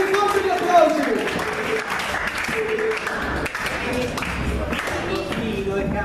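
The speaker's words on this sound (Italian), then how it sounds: "Ci riporti gli applausi!" Studio audience applause at an Italian comedy show, a dense, steady wash of clapping that runs throughout while voices and tonal sounds rise above it.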